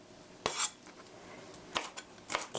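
A knife chops a tomato into cubes on a board, giving three separate clusters of close crisp taps and scrapes over a quiet background, with no talk.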